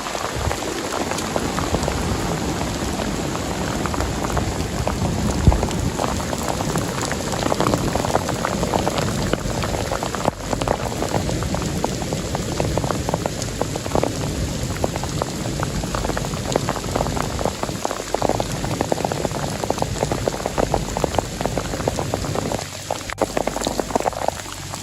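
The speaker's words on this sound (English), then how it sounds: "Rain and thunder pound the fabric just inches" Heavy rain drums steadily on taut tent fabric close by, a dense continuous patter with no pauses.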